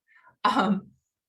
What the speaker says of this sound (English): when I talk a lot, I cough.